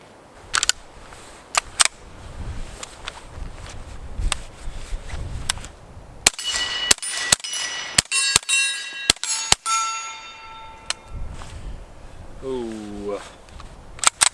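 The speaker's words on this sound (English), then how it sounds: "It's getting pretty dirty shooting this thing with a can" A Ruger PC Charger fired with a suppressor, several sharp muffled cracks and metallic clanks spread across the stretch, with ringing metal and a person talking in between.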